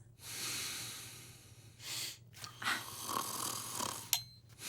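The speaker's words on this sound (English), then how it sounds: "your snoring is way too loud" Heavy, rasping snoring swells in long breaths with brief pauses between, close and fairly loud against a low steady hum.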